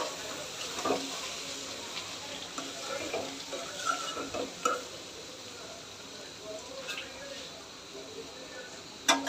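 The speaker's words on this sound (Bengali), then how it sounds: "আর এই ভাজিটা একটু নেড়ে দেবো" Vegetable bhaji (bottle gourd with shrimp) frying in a pan is stirred, giving a steady sizzle with scattered scraping clinks of the spoon against the pan.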